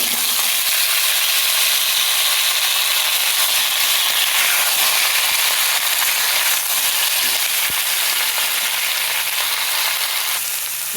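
Washed vegetables sizzle loudly in a hot pan, a continuous bright hissing fry that stays steady throughout, close and alone with no voices.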